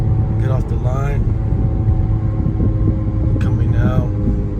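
A Porsche Macan S engine revs up as the SUV accelerates, rising engine tones swelling twice beneath a voice talking over most of the sound.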